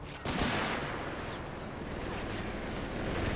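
Sustained machine gun bunker fire in Company of Heroes 3, dense overlapping rapid shots and rumbling battle noise starting abruptly and continuing steadily, faint and without talk.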